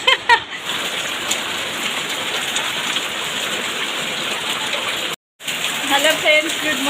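Heavy rain pours steadily outdoors, a dense, loud, constant hiss and patter that fills the whole clip, broken only by a brief dropout near the end.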